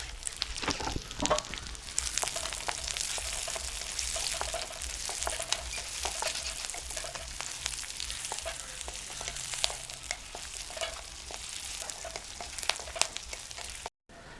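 Curry leaves, dried red chillies and chopped shallots sizzle and crackle in hot oil for a chicken mappas tempering, a dense steady frying hiss with scattered pops and occasional stirring.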